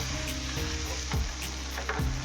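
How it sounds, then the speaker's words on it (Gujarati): Pav bread rolls frying in a pan for Bombay-style pav bhaji, giving a steady close sizzle with a few louder crackling bursts and scraping stirs, and no voices. "તો પાવ મસ્ત રીતે એકદમ ફ્રાય થઈ ગયા છે"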